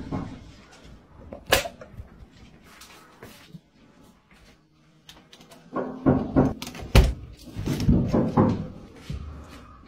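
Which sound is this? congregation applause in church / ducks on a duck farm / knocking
knocking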